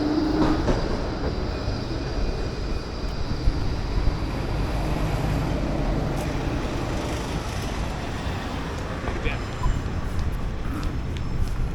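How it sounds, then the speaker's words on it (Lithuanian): A tram rumbles past at close range in Melbourne, a steady loud roar of wheels on rails with some wind noise and occasional clanks. "Tramvajai važiuoja."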